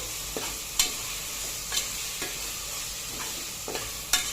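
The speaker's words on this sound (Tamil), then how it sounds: "அப்புறம் ஒரு கைப்பிடி அளவு கொத்தமல்லி இதையும் போட்டு நல்லா வதக்கணும்" A handful of coriander leaves sautés in hot oil in a pan for chicken biryani, with a steady sizzle broken by several sharp spatula scrapes and taps at irregular intervals, close up.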